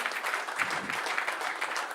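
Steady applause from a press conference audience, a dense crowd of clapping hands held at an even level for the full two seconds, with no voice over it.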